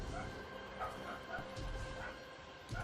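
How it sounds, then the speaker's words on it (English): A small, yappy dog barks downstairs, its faint, muffled yips coming in short bursts. A voice talks nearby over it. "what's the dog barking at now?"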